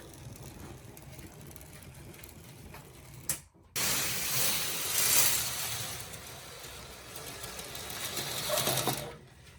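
Chain drive motor under the station of a working model wooden coaster, whirring and clicking mechanically at a low level, with a short gap and then a louder, brighter stretch of running gear.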